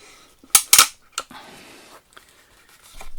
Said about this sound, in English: End up having to use two hands on the cocking lever.